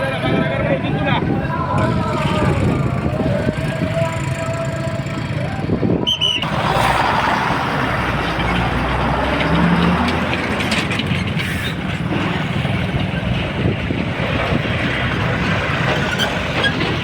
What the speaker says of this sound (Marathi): मांजरा नदीच्या पुलावरील ही ट्रॅफिक रस्ता रोकोनंतर आता सुरळीत करण्यात आलेली आहे